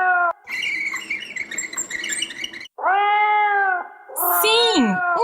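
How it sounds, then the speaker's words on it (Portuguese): A cat meows several times, loud and near, with drawn-out cries and a rising, wavering call near the end, partly over a noisy, raspy stretch. "Sim, um gato."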